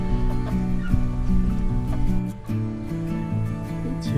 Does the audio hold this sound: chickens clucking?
yes